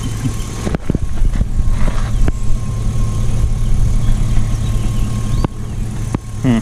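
A vintage flathead engine on an old forklift runs steadily at idle, a low throbbing drone with a few sharp knocks and clunks over it, heard close with no talking.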